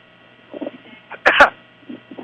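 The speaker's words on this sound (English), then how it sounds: "Cough out of the way." A commentator at a high school softball broadcast gives one sharp close cough, with faint murmurs of talk before and after it.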